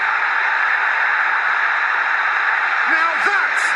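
A stadium crowd at Old Trafford roars after a Manchester United goal: a dense, steady wall of distant cheering that stays loud throughout, with a commentator's voice briefly rising above it near the end.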